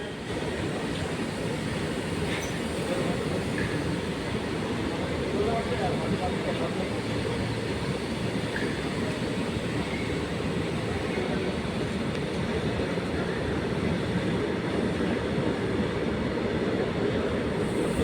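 A passenger train runs steadily, its continuous rumble and rattle holding an even level throughout, with faint voices mixed into the din.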